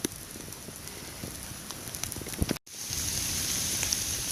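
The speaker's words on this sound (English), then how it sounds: "This is a hailstorm." Hail pelting down during a storm on the High Sierra Trail, a dense crackling patter of impacts with scattered sharper hits, briefly cut out midway, then resuming as a steady rushing clatter.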